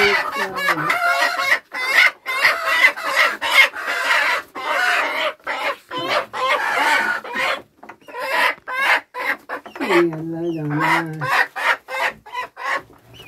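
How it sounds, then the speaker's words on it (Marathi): Hens cluck and squawk inside a dark chicken coop in a village, loud and close, with rapid overlapping calls and a drawn-out cackle near the end; a person speaks briefly among them. "कोंबड्यांचं घर आहे इथे आतमध्ये."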